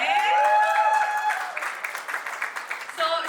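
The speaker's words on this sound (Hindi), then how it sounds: "जोरदार तालियां हो जाए।" A press-meet crowd at a cricket league event claps for the team captain, a busy wash of applause mixed with tonal voices or cheers at the start and a brief return near the end.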